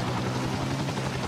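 An AH Air Cobra helicopter in a video game, a brief steady rotor drone with a low thrum, continuous and fairly close.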